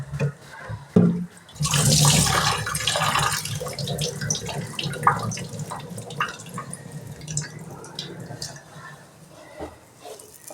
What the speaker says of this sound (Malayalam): നല്ലവണ്ണം 1-2 വെള്ളത്തിൽ കഴുകി എടുത്തിട്ടുണ്ട്